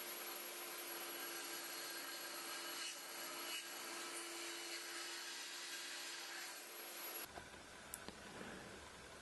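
A track saw makes a full-depth cut to trim a new splinter guard strip: a loud, steady whining rip runs for about seven seconds, then gives way to quieter clatter and a few sharp knocks.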